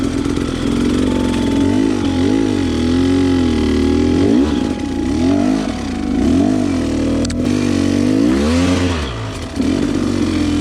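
A 2016 KTM 300 EXC dirt bike is ridden through the woods, its engine loud and close, revving up and down repeatedly in a rising and falling whine with a rattling edge.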